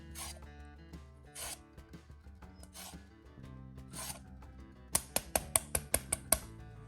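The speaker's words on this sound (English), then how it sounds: "And then finish off with a little lemon zest." A lemon being zested on a grater, with soft rasping strokes in an irregular rhythm followed by a quick run of sharp, bright scrapes, close and fairly quiet.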